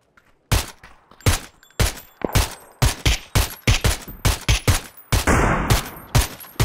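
Rapid bursts of gunfire from the video game PUBG, a dozen or more sharp, loud shots and short volleys in an irregular rhythm, with one longer sustained burst near the end and no talking over it.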